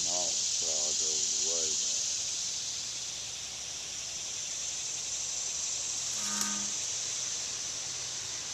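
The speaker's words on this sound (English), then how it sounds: "there's a big old bullfrog down here" Deep bullfrog calls in a wetland: three low, throaty croaks in quick succession at the start, then a steady insect drone with a brief sharper call later on.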